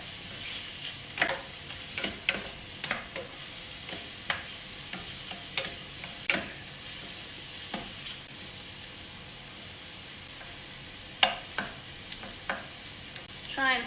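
Pasta stirred in a pot of boiling water, a spoon scraping and knocking against the pot in a run of irregular taps and swishes over a steady bubbling hiss, close by.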